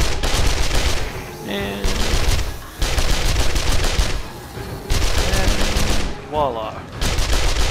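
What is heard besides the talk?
SMG gunfire in video game 7 Days to Die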